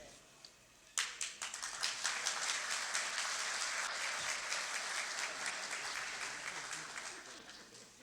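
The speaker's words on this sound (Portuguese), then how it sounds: "Mais uma salva de palmas a todos." An audience at a postgraduate electoral law ceremony breaks into sustained applause. It starts abruptly, stays dense and even for several seconds, then slowly thins out, with no talk over it.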